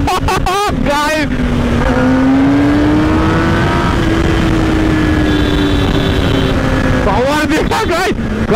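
Kawasaki Ninja ZX-10R engine revving loud and close, its pitch rising and easing over a sustained run, with someone talking briefly at the start and end.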